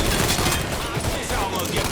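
Continuous loud gunfire in the game Mafia 3, a dense barrage of overlapping shots filling the whole stretch, with voices mixed into the chaos.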